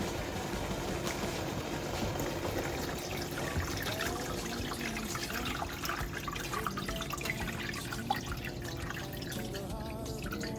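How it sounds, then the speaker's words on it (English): Water is poured into a steamer holding steamed cassava, giving a continuous splashing, trickling flow with dripping that runs steadily for about ten seconds, close up, with no talk over it. "so I'm gonna add water."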